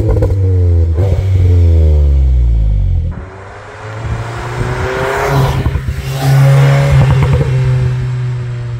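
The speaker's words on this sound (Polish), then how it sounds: "bo tu są wydechy prawdziwe, zresztą posłuchajcie" Cupra Leon VZ 310 hp exhaust in Cupra mode, revving hard under acceleration: loud, close engine roar climbing in pitch through two pulls with a brief dip between them, no talking.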